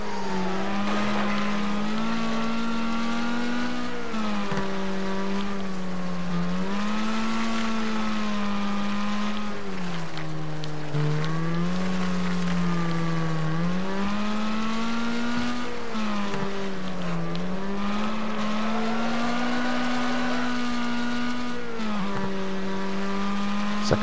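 Race car engines drone in a Wreckfest video game race, one engine's pitch rising and falling smoothly through gear changes and bends, with faint tire noise and no voices.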